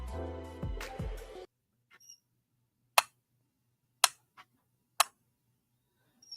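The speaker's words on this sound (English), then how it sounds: "that is the sound of the magnet and the thing like adhering to my metal light" A magnet snaps onto a metal light with sharp, distinct clicks, three clear ones spaced about a second apart after a burst of music cuts out, with a fainter tick in between.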